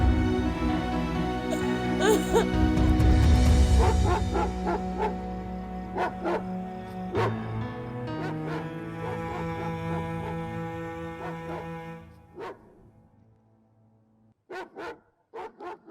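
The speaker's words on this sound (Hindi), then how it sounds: "ये कुत्ते इतने क्यों भौंक रहे हैं?" Dogs bark in repeated sharp bursts over a steady musical score, fairly close and loud, with a few last barks standing alone after the music fades near the end.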